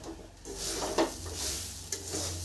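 Sesame seeds fry in a hot pan with a soft sizzle under scraping strokes of a spatula, with a couple of sharper taps against the pan. The sound is close and short.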